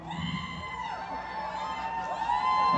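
Concert audience at a show in Youngstown, Ohio, screaming and cheering as a sustained crowd roar, with shrill individual screams on top and the din swelling louder toward the end.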